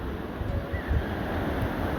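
Floodwater rushing over a washed-out bridge and collapsed road, a loud, continuous roaring surge mixed with wind buffeting the microphone, and a constant high whine running through it.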